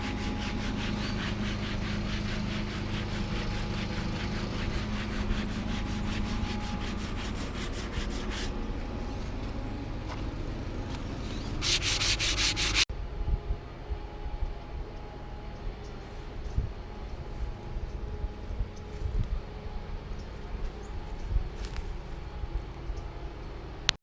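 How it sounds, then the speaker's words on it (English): Sandpaper rubbed by hand across a cut valley oak stump outdoors at Nelson's Grove in Woodland, California, makes a steady, close, rasping scrub that runs loud for about thirteen seconds, then continues more softly and unevenly. "Sanding that off so you can reveal the rings a little better"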